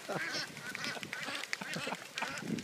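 Ducks on a pond quack and honk in rapid, overlapping calls while a dog chases them, the calls fairly close but moderately quiet, with splashing-like noise between them.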